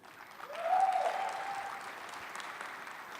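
Soft, distant applause from a conference audience welcoming a panelist, swelling briefly then settling into a steady patter, with a faint tonal sound near the start.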